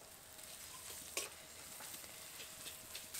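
Ginger garlic paste fries quietly in a pan with fried onion paste while papaya dhoka curry is being made. A faint, steady sizzle runs throughout, broken by a few soft stirring scrapes.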